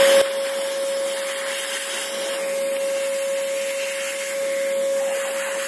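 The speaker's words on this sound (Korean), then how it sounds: "솔로 털어주면서 청소기로 빠는 게" A vacuum cleaner runs close to a Feima coffee grinder while cleaning it, giving a steady, loud suction roar with a constant high whine and no break.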